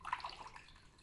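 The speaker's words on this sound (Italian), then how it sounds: "e metto l'acqua così. La fate andare fino a metà dei carciofi" Water trickles and drips into a pot of stuffed artichokes filled with breadcrumb stuffing, a soft, close pour that is brief and fades out.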